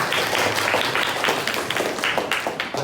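Classroom applause from a small group during a teacher-training lesson, scattered hand claps with uneven rhythm over room noise, moderately loud and close throughout.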